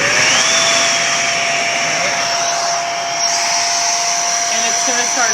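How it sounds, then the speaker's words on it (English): A household vacuum cleaner pulling air out through a hole in a garbage can to suck a storage bag flat, a loud continuous high whine running steadily throughout, with no speech. "now go find yourself a vacuum and use the hole"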